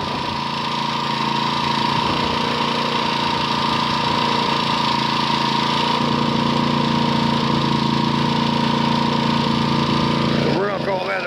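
A warmed-up engine runs steadily at about 3,400 rpm during a test of Liqui Moly MoS2 oil additive, making a loud, continuous drone that stays even throughout, with a slight change near the end.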